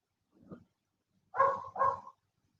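A dog gives a short faint yelp followed by two louder, close barks in quick succession.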